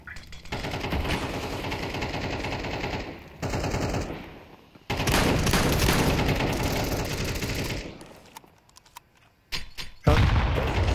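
Gunfire from a shotgun in Counter-Strike 2, loud blasts and firing sounds filling most of the span, broken by a couple of brief quiet gaps before a final burst.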